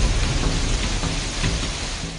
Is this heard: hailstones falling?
yes